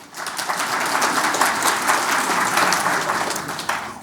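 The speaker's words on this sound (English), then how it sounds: "If you want to see the summer, just give a clap." An audience at a talk about Hokkaido breaks into steady applause, a dense crowd of many hands clapping at moderate volume that thins slightly near the end.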